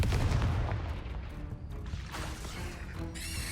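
Confringo blasting spell cast in Hogwarts Legacy, a dense rumbling burst of explosive impact with crackling debris, booming low and loud before settling into lighter magical shimmer.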